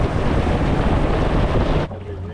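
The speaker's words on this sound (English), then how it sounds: "but the wind's flaring slightly" Steady, heavy wind buffets the microphone on a small boat fishing over tidal sand flats, a loud broadband roar that drops away abruptly near the end, leaving a quieter rumble of water and hull.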